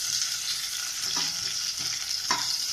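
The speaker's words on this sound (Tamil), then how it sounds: "இதையும் நல்லா வதக்கி விட்டுக்கலாம்." Garlic and curry leaves sizzle steadily in hot oil in a pan while being sautéed for a spinach dal kulambu, with a few soft stirring scrapes and knocks over the continuous frying hiss.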